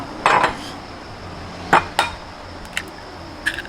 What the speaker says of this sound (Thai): เดี๋ยวเราจะมาตอกไข่ใส่ชามก่อน